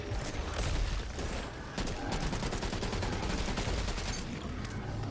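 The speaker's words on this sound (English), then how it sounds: "This gun has so much recoil." Sustained gunfire from a weapon in the video game Back 4 Blood, a dense, continuous rattle of rapid shots with heavy recoil, loud and unbroken for several seconds with no talk over it.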